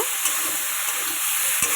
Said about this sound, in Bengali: ফুলকপিটা লাল লাল করে একটু ভেজে নেব আমি